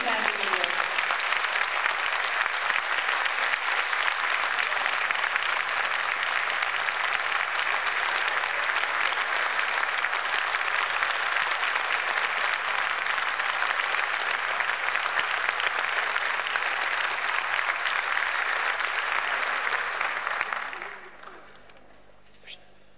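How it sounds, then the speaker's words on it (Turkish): An audience at a Turkish folk music choir concert bursts into strong, sustained applause for about twenty seconds, dense and even, then quickly fades into a quiet room. "O güzel alkışlarınızı çok güçlü rica ediyorum."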